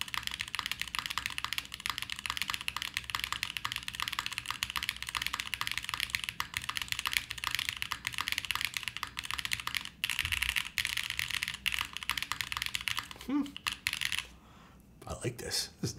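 Fast, continuous typing on a Quantum60 mechanical keyboard set directly on the desk rather than a desk pad, a dense stream of close, crisp key clacks that slows into a few scattered presses near the end.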